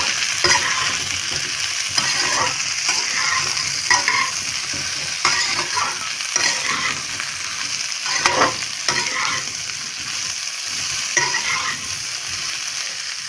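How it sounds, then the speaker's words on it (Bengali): Cubed potatoes stirred and fried in a pan for a soybean curry give a steady close sizzle, broken by repeated scraping and stirring clatter throughout, with no talk. "আলুগুলোকে দিয়ে দিলাম। দিয়ে একটু নেড়ে নিলাম।"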